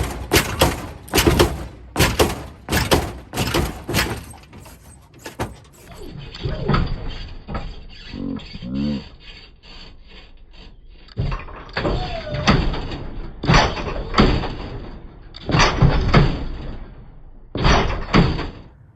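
A lowrider car hopping on hydraulics, with a series of sharp clunks and heavy thumps as the suspension drops and pops back up in quick bursts, and a voice talking briefly between the bursts.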